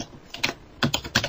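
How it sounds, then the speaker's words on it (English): Quick bursts of typing on a computer keyboard, three short clusters of key clacks picked up close on an open microphone during a remote interview call, with no talk over them. "I hear a keyboard. Can somebody mute their keyboard?"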